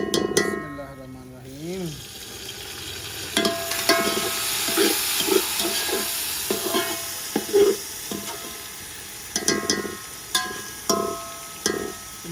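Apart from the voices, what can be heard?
tomatoes added to browned onions sizzling in a pan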